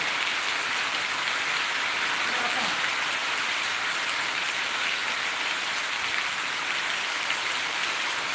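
Steady heavy rain falls over a village during a monsoon downpour, a dense continuous hiss of drops on surfaces, close and even throughout, with no one speaking.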